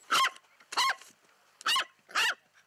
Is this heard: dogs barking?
yes